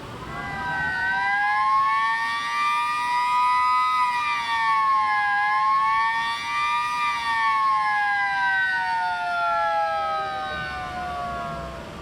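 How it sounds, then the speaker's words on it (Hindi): A flood warning siren at the Kosi Barrage wails continuously and loudly, its steady rising and falling tone holding for the whole stretch with faint background noise beneath. "यहाँ से सायरन को जो है वो बजा दिया जाता है"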